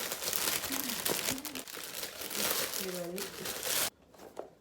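Plastic packaging crinkles and rustles close by as an HQT-906 electric hair straightener brush is unboxed, with a person talking over the handling noise before it stops near the end.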